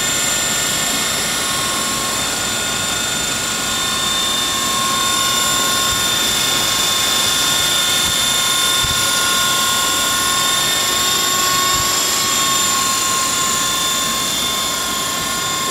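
A small RC helicopter with a bent main rotor shaft flies nearby, giving a steady, loud high-pitched whine with a constant tonal hum that holds evenly throughout, with no talk.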